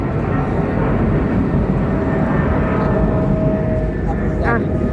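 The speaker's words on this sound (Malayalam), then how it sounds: "എമിറേറ്റ്സിന്റെ ഫ്ലൈറ്റ് ആണോ?" An Emirates airplane passes overhead in Dubai, a steady broad engine roar filling the whole stretch at moderate loudness, with no clear talk over it.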